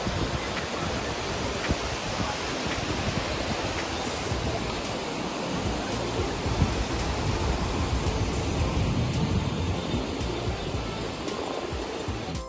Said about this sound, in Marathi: धबधबा जर आपण पाहिला तर हा आहे धबधबा